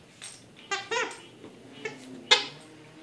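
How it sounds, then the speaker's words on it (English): A squeaky toy snake squeaks several times in short, irregular bursts as a dog chews it, close and fairly loud, with quiet pauses between squeaks. "anywhere he touches it, it's going to squeak"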